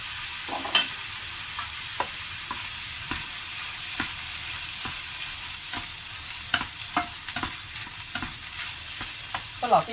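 Eel fried rice with soy sauce and sliced spring onion is stir-fried in a pan, giving a continuous close sizzle broken by repeated scraping and tapping strokes of the spatula, with no talk.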